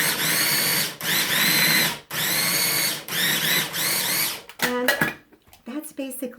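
Food processor chopping and grinding sprouted chickpeas with extra virgin olive oil: loud whirring bursts, pulsed on and off about four times, then stopping as a voice begins speaking near the end.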